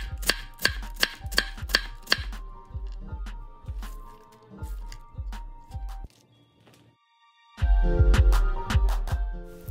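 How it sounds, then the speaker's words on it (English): A chef's knife chops through red cabbage on a board in fast, even, loud strikes, pausing briefly before a closer, heavier flurry of cuts; no voices. "I'll be chopping them with my chef's knife until I yield about 2 to 3 handfuls of shredded red cabbage"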